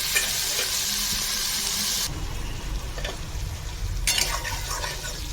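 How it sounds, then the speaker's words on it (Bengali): A spice paste with turmeric and salt sautés over low-to-medium heat, sizzling loudly up close with a couple of short bursts and pauses as it is stirred, and no voices. "এইবারে লো টু মিডিয়াম হিটে রেখে চার থেকে পাঁচ মিনিট মশলাটা আমি একটু কষিয়ে নেবো"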